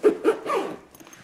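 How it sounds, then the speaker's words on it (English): A zipper is pulled shut on a small bag mounted atop the rear bag of a 60 mph ebike, giving two quick close rasps followed by a longer slide, loud and alone. "now I can just zip this guy up and it's ready to go"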